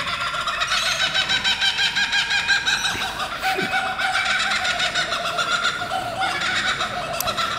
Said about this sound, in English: this is exactly what a kookaburra sounds like